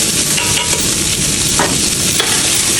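Capsicum is tossed into a hot pan, sizzling loudly and continuously while a utensil stirs and scrapes through it in quick strokes, close up.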